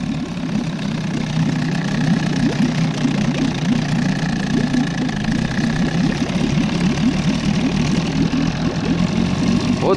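A Johnson/Evinrude 6/8 hp outboard motor idles on a PVC inflatable boat, a steady, fairly loud low rumble with a fast, even chugging rhythm that runs unbroken for the whole stretch.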